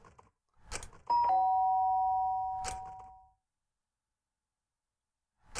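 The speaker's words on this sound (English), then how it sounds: "The sharp sound of the doorbell pierced my sleepy haze and pulled me back to the real world" Doorbell in the video game Danganronpa, a clear electronic two-tone chime that rings once and fades out over about two seconds, with soft thuds before it and silence afterward.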